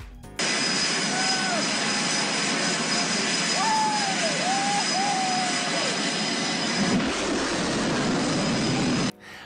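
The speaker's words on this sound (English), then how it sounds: "F-35C going supersonic over the Pacific Ocean." An F-35C fighter jet flying supersonic over the Pacific Ocean gives a steady, loud broadband roar for about nine seconds, with faint wavering whistle-like tones drifting through it.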